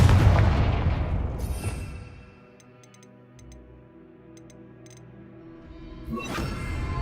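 Confringo fire spell blasts in Hogwarts Legacy: a loud, rumbling burst opens the clip, then a quieter stretch with faint ticking. A second sharp blast follows near the end.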